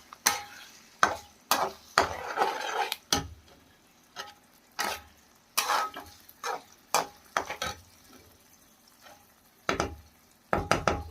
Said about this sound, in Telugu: గుడ్లు మొత్తం కొట్టుకున్న తర్వాత ఇట్లా ఒకసారి కలిపెట్టుకోవాలి